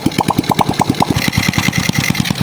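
Overhauled Honda XRM 125 motorcycle engine firing up and running with a loud, close, rapid, even putter as the throttle is raised slightly.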